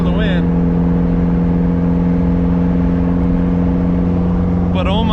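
A newly built forged 1.6-litre compound-turbo Miata engine drones steadily from inside the moving car, with a constant low hum and whine under the cabin, and brief chirps of turbo or tyre noise near the start and end.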